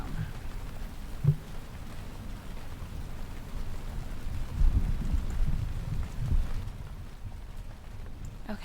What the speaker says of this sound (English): I will turn the rain down